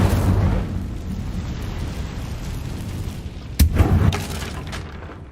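A fire spell cast in a video game lands as a sudden booming burst partway through, a loud crackling whoosh that tails off over a low, steady rumbling background.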